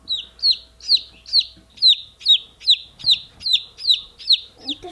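A chicken clucks repeatedly in a steady rhythm, about a dozen short, close, fairly loud calls with brief gaps between them.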